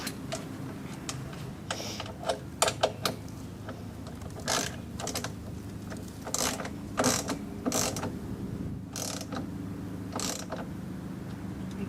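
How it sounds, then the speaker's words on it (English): A ratchet wrench tightening bolts on a step rail being installed on a 2013 Nissan Xterra, giving quick close bursts of clicking in an irregular rhythm with short pauses between strokes. "I'm gonna go ahead and tighten the other ones down."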